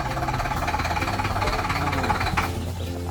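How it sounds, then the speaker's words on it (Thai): A forklift engine idles steadily with a rough, labouring, slightly knocking rumble, close and continuous throughout. "เครื่องติดแล้ว เดินเบา เดินหอบหอบเลยฮะ"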